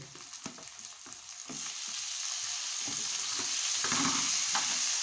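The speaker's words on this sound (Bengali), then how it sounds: "দিয়ে দিচ্ছি রসুন আদা বাটা, এর সঙ্গে একটু একসঙ্গে ভেজে নেব।" Whole garlic cloves and ginger-garlic paste frying in a pan for chicken kosa, a close sizzle that builds and holds steady, broken by several scraping stirs of a spatula.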